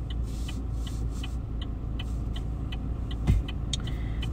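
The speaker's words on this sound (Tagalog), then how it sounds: "Samahan nyo akong mag-drive pa uwi." A car drives home along snowy roads on New Year's Day, giving a steady low engine and road rumble with faint ticking and one brief louder thump near the end, and no talking.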